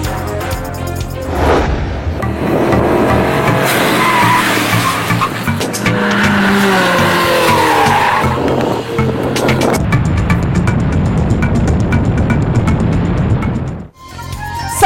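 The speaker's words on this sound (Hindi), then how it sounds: "साल की पहली hub autocross rally DHA Karachi में जारी।" Rally cars race and skid through an autocross course at DHA Karachi, engines roaring loud and close while tires squeal in long sweeping bursts across the whole run.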